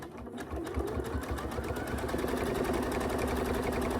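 A sewing machine stitches a quilt in a steady fast needle rhythm, running close and loud without pause after a brief start, with no voices.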